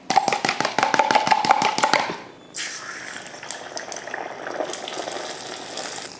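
Beaten egg poured into a hot pan for an omelette, a burst of steady chopping-like taps giving way to a loud sizzling hiss that carries on as a soft crackling fry.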